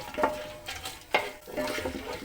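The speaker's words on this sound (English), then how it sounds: "The whole spices are fried." Whole cinnamon, cardamom, cloves, home-dried bay leaves, star anise and fennel seeds sizzle in hot oil for chicken pulao, with soft stirring scrapes and light clinks in the pan, close and moderate in level.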